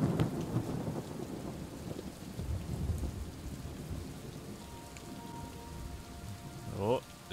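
Rain in the video game Superliminal's White Space level, a steady rushing downpour with low rumbling thunder, close and continuous, with a short tonal sound near the end.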